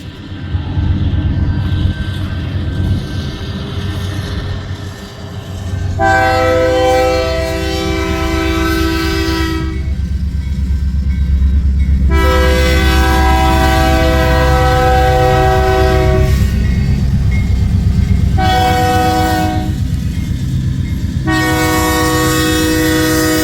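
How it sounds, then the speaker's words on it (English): A westbound autorack freight train rumbles past close and loud on the main line, its horn blaring in several long blasts separated by short gaps over the steady roll of the cars. "We got a westbound auto-rag train on the main"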